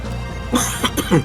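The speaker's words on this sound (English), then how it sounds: "given that I have a cough right now" Three short coughs in quick succession, close and fairly loud, with brief gaps between them and no talking.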